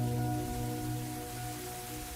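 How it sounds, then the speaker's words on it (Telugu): Rain falls steadily outside a home in a quiet, even hiss, with a low sustained musical hum beneath it and no talk. "నాకెందుకో ఈ వర్షం నచ్చట్లేదమ్మా."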